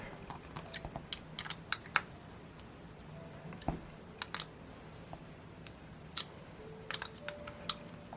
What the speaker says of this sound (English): Now I can do the torquing.